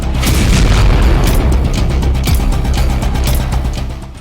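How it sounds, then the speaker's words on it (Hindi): A deep, rumbling boom of a large explosion from a drone attack in Toropets, Russia, loud and sustained, rolling on for several seconds before slowly fading. "रूस के टोरोपैट्स में इस धमाके की वजह से भूकंप तक आ गया है।"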